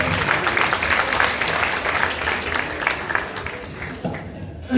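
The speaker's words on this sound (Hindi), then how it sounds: "तालियों से उनका उत्सव कराते हैं।" Audience applause fills the room, dense continuous clapping from a sizeable crowd at steady loudness throughout, thinning slightly toward the end.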